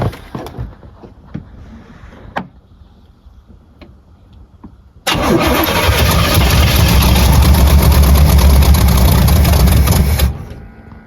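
A 1984 Corvette engine catches after several seconds of scattered clicks and rattles, then runs loud and rough for about five seconds before cutting off abruptly.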